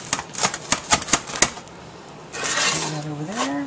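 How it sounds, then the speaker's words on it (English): A knife cuts French bread pizza on an uneven pan, producing a series of sharp rhythmic clacks and taps close up, followed by a voice talking. "It's hard to cut on an uneven pan."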